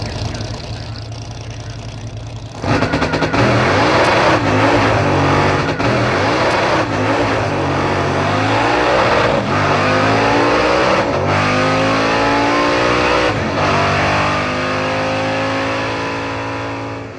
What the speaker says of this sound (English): Ah, damn, it blew the tires off at the hit.